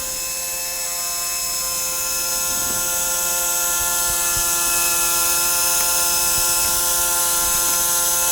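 A high-speed turbine spun by liquid nitrogen vapour pressure, a loud steady mechanical whine with sustained tonal hum and faint rattling, rising slightly in level and continuous throughout.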